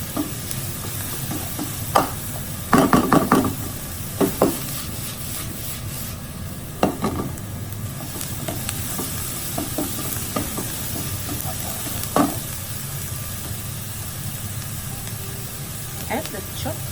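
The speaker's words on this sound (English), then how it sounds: "Add the garlic and ginger paste. Stir until fragrant." Garlic and ginger paste stir-fried in a pan for fried rice, a continuous hissing sizzle with intermittent scrapes and clatters of stirring, heard close alongside some background voice.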